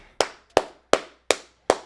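Five sharp, close hand claps ring out alone at an even, deliberate pace, each one crisp with a quick decay.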